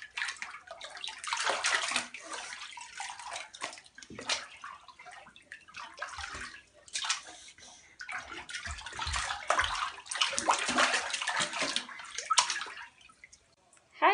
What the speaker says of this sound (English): Twins, they are having fun playing with water.